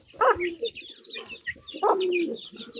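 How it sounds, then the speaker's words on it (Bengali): Small chicken chicks cheep near a feeding pigeon, giving short high calls in two close bursts with quieter chirps in between. "সবগুলো সব ছোট মুরগির বাচ্চা এই মুরগির বাচ্চাগুলো"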